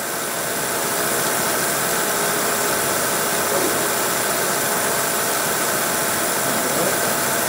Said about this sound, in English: we're cutting a partial hole here, but the rotor broaches don't really care.